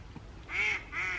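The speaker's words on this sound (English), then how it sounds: "There's the little ducks." Two loud, drawn-out nasal quacks from ducks close by at a small lake, the second following shortly after the first, with faint background noise.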